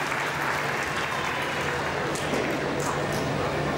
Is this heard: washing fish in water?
no